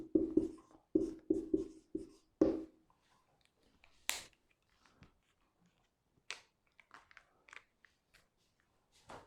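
A pen scratches out an answer during a lecture on blood-relation reasoning, in quick bursts of close strokes followed by sparser, fainter taps and scribbles, with no talk.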